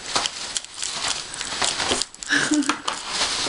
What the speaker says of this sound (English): the cat's playing with the paper bag from Walmart.